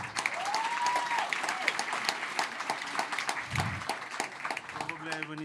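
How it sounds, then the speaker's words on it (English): A conference audience claps for speaker Kirill at a tech startup event, the scattered, moderately faint claps mixed with voices and some background noise. "let's support Kirill and give him applause"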